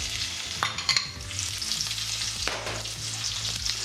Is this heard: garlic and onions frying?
yes